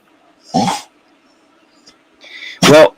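A hungry dog makes two short, loud vocal bursts close up, a whine or bark-like cry early and another near the end, separated by quiet.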